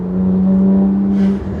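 A BMW 1M with an aftermarket HMS exhaust hums with a steady low drone that swells briefly as it accelerates, heard up close and alone for under two seconds.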